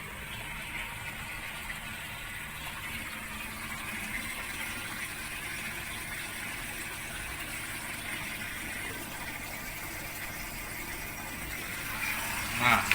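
A water pump running in a large 3-metre aquascape tank, a steady broadband gushing and humming flow that holds evenly throughout, with a brief louder surge at the very end.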